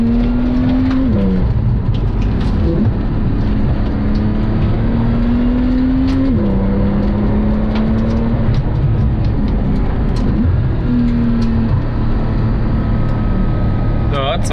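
Porsche 991.2 Turbo engine pulling hard under acceleration, revs rising and dropping across gear changes with a steady loud rumble throughout, cabin road noise beneath, and occasional voices in the car.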